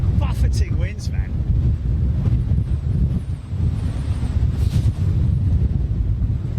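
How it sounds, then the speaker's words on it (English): Strong wind buffets an outdoor microphone at an airport plane-spotting spot, a steady low roar with gusty surges that runs the whole time, while a voice talks briefly near the start. "Buffeting winds, man."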